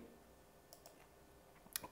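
Mouse clicks on an apply button in file-sharing software, a few faint, sharp ticks spaced apart in a quiet room, ending with a slightly louder click.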